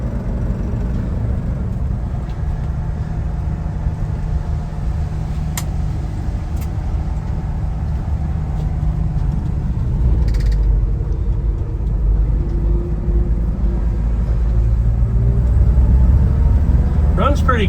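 A 1970 Ford F100 truck engine running while driving, a steady mid-low rumble with shifting tones and occasional knocks, rising a little louder near the end, with someone talking over it.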